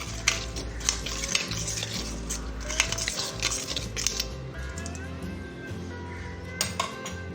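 A spoon scrapes and clinks against a bowl while fish marinade masala is mixed, steady and close, over a constant background hum with occasional sharper taps.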